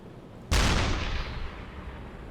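A submarine deck gun fires once in the U-boat video game UBOAT, a single loud, sharp boom followed by a rumbling decay that fades over about two seconds.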